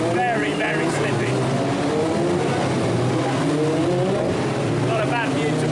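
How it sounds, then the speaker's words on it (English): Formula Renault race cars on a slippery formation lap behind the safety car at Monaco during the 2016 Grand Prix weekend, a dense continuous engine drone with overlapping rising and falling whines as several cars pass close by. "We're just on the formation lap now for the Formula Renault, and we can see them coming round."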